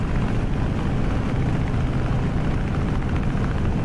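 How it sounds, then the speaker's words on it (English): Steady, loud, broadband roar of a warbird's engine and airflow on final approach while its flaps lower, an unbroken drone with no distinct mechanical clunk standing out and no talking. "You can hear the flaps continuing to come down."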